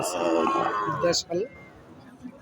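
A deshi dairy cow lets out a long, close moo, followed by a shorter low call, then quiet background.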